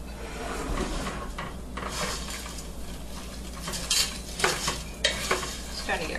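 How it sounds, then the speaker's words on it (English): Fideo pasta fries in a pan and gets stirred, with a steady sizzle under repeated scraping and clinking strokes of the utensil against the pan, close and continuous. "Kind of break the pasta down a little bit more as you're stirring here."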